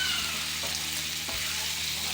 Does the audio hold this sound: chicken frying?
yes